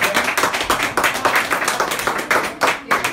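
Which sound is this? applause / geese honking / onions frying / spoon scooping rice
applause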